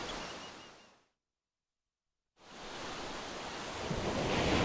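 Ocean waves washing onto a beach, a steady broadband surf roar that cuts out to silence for over a second, then returns and swells louder toward the end.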